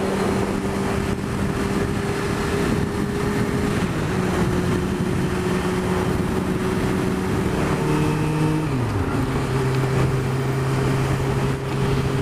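A sportsbike's engine drones steadily while being ridden, loud and close, with the pitch shifting and then dropping sharply near the end as the revs change; no voices.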